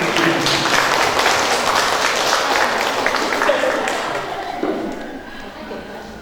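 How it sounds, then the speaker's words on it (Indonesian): Audience at a public speaking workshop applauds a child, a dense wash of clapping that gradually fades over several seconds, with some crowd murmur. "Sekali lagi kita kasih tepuk tangan terbaik di sini untuk anak kita."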